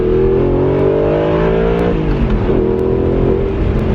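A supercar with a gated manual gearbox is driven hard on an open road, its engine roaring loud and close as revs climb, dip sharply at a gear change, then build again.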